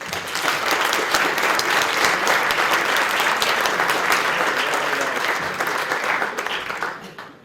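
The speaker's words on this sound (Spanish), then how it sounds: "aplauso." Sustained, loud applause from a conference audience, dense clapping that holds steady for about seven seconds before fading at the end.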